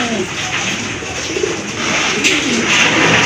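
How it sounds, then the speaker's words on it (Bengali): Pigeons kept for sale cooing softly against a loud, steady background noise, the low calls repeating and half buried in the din. "যখন দেখবেন তখনই কিন্তু দেখবেন ডাকতেছে কবুতরটা"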